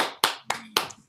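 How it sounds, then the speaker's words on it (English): Three sharp, close hand claps land in an even, quick rhythm at an online music session, each one crisp and short with quiet in between. "Can we clap at this halfway stage?"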